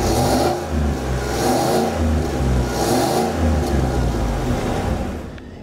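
A 2015 GMC Sierra Denali pickup's 6.2-liter direct-injected V8 revs loudly and close up in repeated surges, the engine note rising and falling several times with no voices.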